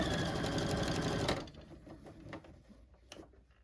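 Domestic sewing machine stitching fabric, loud and steady at first, then stopping abruptly, followed by quiet handling clicks and rustles with no talking.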